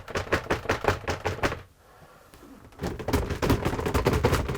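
Shower doors rattle inside a Malibu T 450 Mercedes-based motorhome on the move, a fast run of sharp knocking clatters that stops briefly, then resumes just as loudly.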